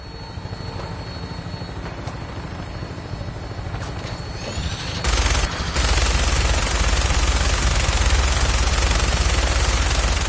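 Helicopter rotor and engine roar in the video game Fallout 4, building steadily before dense sustained machine-gun fire erupts midway and continues loudly to the end.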